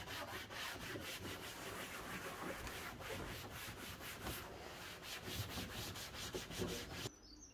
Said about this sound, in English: So we're just giving all the plastics a good rub with this Scotch pad.